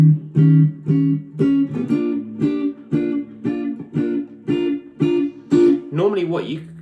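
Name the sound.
electric guitar playing end of 12 bar blues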